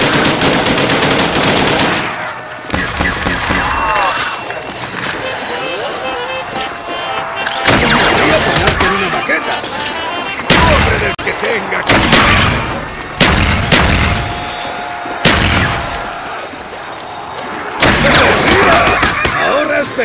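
Rapid gunfire and repeated explosive bursts blast through a zombie shooter set in the Shangri-La map, loud and dense in clustered volleys with brief lulls between them.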